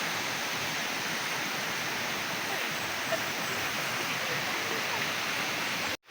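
A tropical waterfall roars as a constant broad rush of falling water, loud and unbroken, heard up close on a guided tour, with no distinct talk over it before a sudden cutoff at the end.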